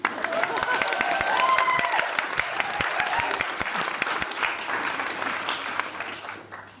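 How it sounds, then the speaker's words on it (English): Audience applause at a graduation ceremony in Prague, a steady spread of clapping hands that fills the room for several seconds and then thins toward the end; a few voices and cheers mix in under it. "Smattering of applause."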